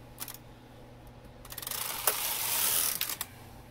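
A knitting machine carriage slides across the needles past thin pins while making slippers, giving a quiet mechanical whirring, ratcheting sweep that builds to a louder rush midway, with faint clicks before and after.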